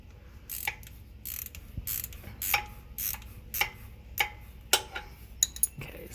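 Ratchet wrench loosening the oil drain on a Dixie Chopper Eagle HP mower, clicking in quick pawl bursts with short pauses between strokes, close and fairly quiet.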